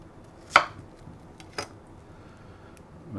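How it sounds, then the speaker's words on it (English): A knife cuts through an onion on a cutting board while it is quartered, giving one sharp chop followed by a fainter second one, close by and otherwise quiet. "Take an onion. We're going to quarter it as well."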